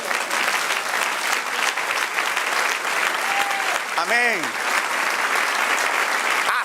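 A church congregation breaks into sustained applause during a Spanish-language sermon, dense clapping filling the room throughout while a voice briefly rises over it.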